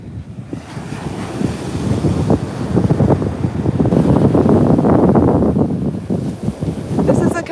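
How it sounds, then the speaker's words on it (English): Loud, gusty wind roaring and buffeting the microphone, with surf or water churning underneath; the blasts swell and ease over several seconds. "Whoa, here comes some wind."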